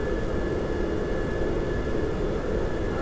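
Aircraft engines idling down on a flight from Tri-Cities to Myrtle Beach, heard as a steady, close roar of broad engine noise with a faint high whine running through it.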